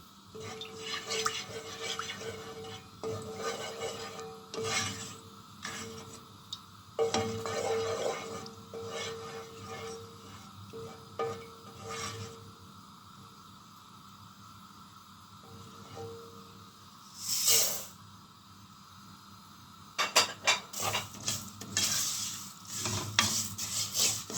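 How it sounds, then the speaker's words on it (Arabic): Vermicelli browning in ghee in a pan, stirred with soft scraping and a light sizzle, with occasional louder clatters of the utensil against the pan. "نحمر بقى الشعرية"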